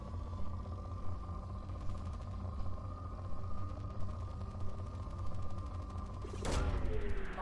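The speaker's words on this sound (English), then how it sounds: "Launching probe." A probe launches in Mass Effect 2: a steady tonal hum runs throughout, then a sharp whooshing burst near the end, with no talk.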